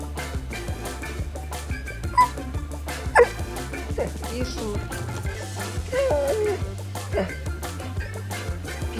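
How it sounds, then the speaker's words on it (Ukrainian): A dog yips, whimpers and gives short barks over a busy game soundtrack and other background noise, with scattered sharp cries rising above the mix. "можемо подивитись поки що на мою собаку"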